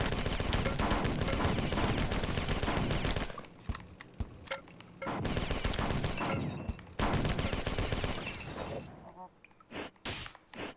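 Rapid loud gunfire from shooting enemies in Marathon 2, the Bungie sci-fi shooter, with dense bursts for the first few seconds, then scattered shots and impacts that thin out toward the end.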